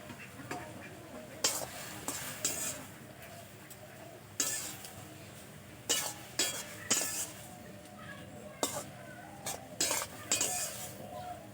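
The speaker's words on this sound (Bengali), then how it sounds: "এখন ভালো করে মিশিয়ে নিতে হবে।" Spoon stirring turmeric powder into a Malabar spinach curry in a pan, giving a series of scraping, clinking strokes against the metal at irregular intervals over a faint steady sizzle.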